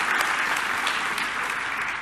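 Conference attendees give sustained applause after a keynote lecture, a dense, even crowd of clapping hands that holds steady for the whole moment without any talk over it.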